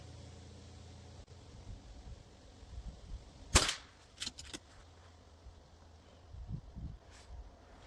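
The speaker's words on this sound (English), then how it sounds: "Let's take another 5. Really nice to shoot with these PCPs." Sharp, loud crack from an FX Panthera Hunter Compact PCP air rifle, followed by a couple of lighter, quicker snaps and faint handling noise in a quiet outdoor setting.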